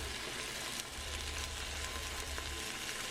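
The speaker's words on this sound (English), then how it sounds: "Put the onion in, let it saute" Onion sautéing in extra virgin olive oil in a pot, a steady soft sizzle and crackle running quietly throughout with no voices over it.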